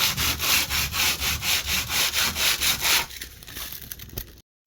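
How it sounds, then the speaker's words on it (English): Rough wall surface being sanded down by hand, heard as about ten steady, rhythmic rasping strokes up close, followed by quieter scraping and shuffling before a sudden stop. "I've sanded it down, and the next thing I'm going to use is patch and paint to fill it in."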